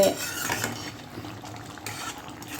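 Masala powder being stirred into a prawn and egg curry in a pan, a soft continuous scraping and faint bubbling close by, fairly quiet with no talking.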